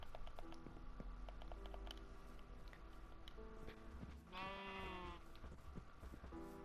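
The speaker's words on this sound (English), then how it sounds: "There's another sheep." Minecraft sheep bleating in the video game, one clear wavering bleat standing out over a busy backdrop of game music and ambient farm-animal sounds.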